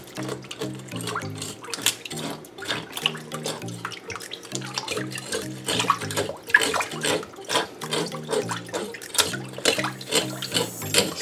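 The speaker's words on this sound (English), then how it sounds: "you can hear the fish being scaled" Fish scaled by hand while submerged in a basin of water indoors: rapid splashing, scraping strokes and drips in an uneven, close rhythm, with no talking over it.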